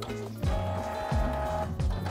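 A Canon MP287 inkjet printer runs a test page, giving mechanical whirs and motor hums with repeated sliding sweeps as the print head and paper feed move, fairly close and steady, with no talking.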